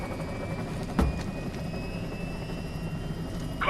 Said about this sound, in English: Commencing takeoff in semi-auto mode.